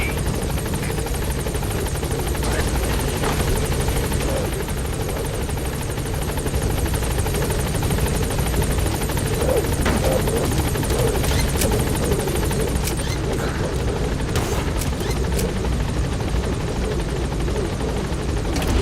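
The B-Quad helicopter from the video game Metal Gear Solid V hovers at a landing zone, a loud, steady rotor chop and engine whine that holds for the whole stretch, with faint crackles mixed in and no talk.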